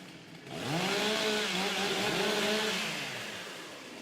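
Chainsaws rev as they warm up before a women's STIHL Timbersports timber-cutting race, loud overlapping engine whines rising and falling in pitch for a few seconds, then easing toward idle.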